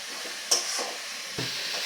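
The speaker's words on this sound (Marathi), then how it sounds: "सतत ढवळतच राहायचं आहे कारण तुम्ही ढवळणं जर सोडाल ना तर खाली लागून लगेच करपण्याची शक्यता असते" Fresh grated coconut mixture cooking in a pan over a medium gas flame, stirred constantly: a steady close sizzling hiss with occasional scraping strokes of the spoon against the pan.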